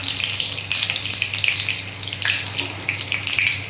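Panch phoron whole-spice tempering crackling in hot oil, a steady close sizzle with scattered spits and pops throughout, no voices.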